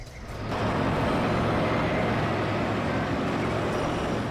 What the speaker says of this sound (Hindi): ट्रक भी आ गया।